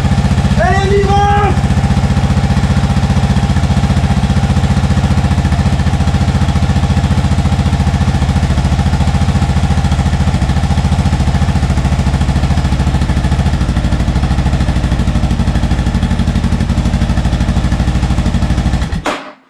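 A Suzuki DR 650 motorcycle engine, freshly restored, fires up and settles into a loud, steady, close-up idle that runs for most of the stretch before cutting off abruptly; a brief voice is heard near the start.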